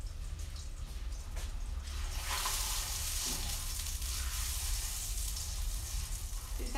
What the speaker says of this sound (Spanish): Vamos a poner la tortilla a que se más o menos se fría un poquito.